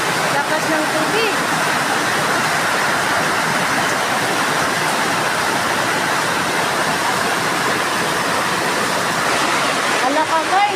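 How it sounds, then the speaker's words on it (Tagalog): Strong floodwater rushes in a loud, continuous, steady roar that fills the whole stretch, close by, with a voice faintly heard near the end. "Sobrang lakas ng tubig."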